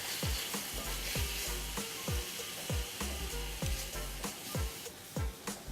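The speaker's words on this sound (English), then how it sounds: "I always love the sound of sizzling." Beef tapa sizzles steadily in hot oil on high heat, with a rhythmic scraping and thudding of stirring roughly every half second, up close.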